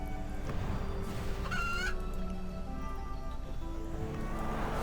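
Chickens cluck in the video game RuneScape 3, with a short rooster-like crow among the repeated clucks over a steady game background.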